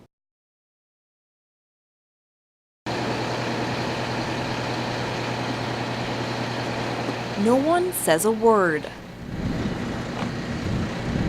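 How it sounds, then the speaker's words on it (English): Steady low engine hum from an idling fire truck hoisting a giant American flag outdoors in wind, constant drone with a brief rising mechanical whine partway through. "The wind blows and a fire truck hums, hoisting a giant American flag."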